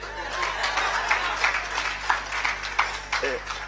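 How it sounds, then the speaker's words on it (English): An audience at a Water Aid Uganda strategy launch in a Kampala hotel hall claps in a scattered, moderate round, with a low electrical hum beneath and some chuckling and voices mixed in. "So why don't you clap for that?"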